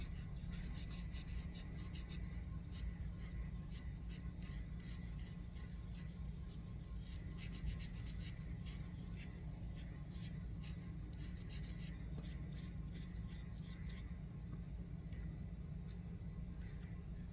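Faint, steady rasping and rubbing as a soapstone star sculpture is filed and smoothed by hand, with repeated light scraping strokes over a constant low background hum.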